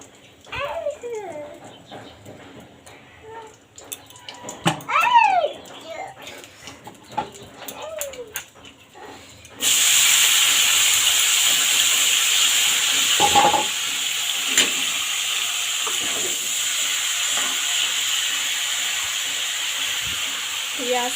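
Oil heating in a pan for Bengali chochchori, a steady broadband sizzle and hiss that starts abruptly partway through and continues loud and even, with a few clinks and faint background sounds.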